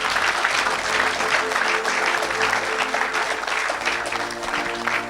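An audience applauding and cheering during a church service, steady dense clapping from a large crowd with a background tone underneath, sustained throughout without pause.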